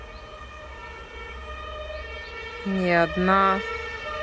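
Wailing emergency vehicle siren, police or ambulance, in a Russian town, rising as it draws near and peaking in a loud up-and-down wail near the end over faint background hum, with a brief spoken remark.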